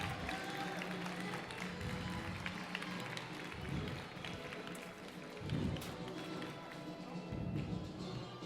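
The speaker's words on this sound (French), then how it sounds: "Un applaudissement pour Nir, s'il vous plaît." An audience at a French barista competition claps for a competitor, fairly faint and distant, a dense patter of hands with a few louder surges and thumps, alongside some crowd murmur.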